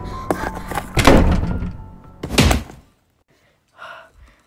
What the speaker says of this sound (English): Keep trying to push the door.